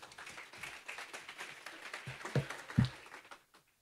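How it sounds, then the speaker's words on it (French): Faint audience applause at a morning French business conference, a soft, brief patter of clapping with a few sharper claps before it fades out. "on peut l'applaudir"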